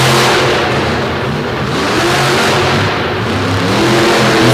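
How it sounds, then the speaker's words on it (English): A heavyweight monster truck engine revs hard and steadily through a qualifying run at a motorsports show in DuQuoin, loud and continuous with swelling throttle and no talk over it. "Another heavyweight monster truck on the circuit."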